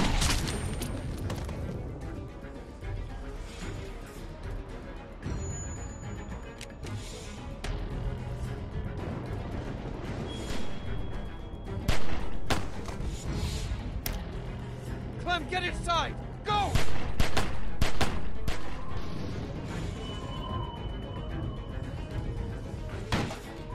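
Bursts of rapid AK-47 gunfire and booming explosions in The Walking Dead Season 2 video game, intermittent and sharp, mixed with a person talking throughout.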